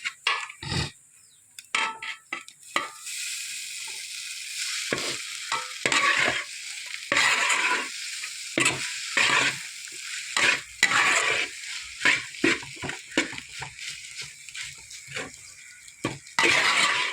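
A spatula scrapes and stirs egg noodles in a hot, sizzling pan, with irregular bursts of scraping and clinking between quieter sizzle.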